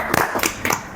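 Three loud, distinct claps in quick succession ring out close by on a talk-show set, the kind of brief clapping that greets guests.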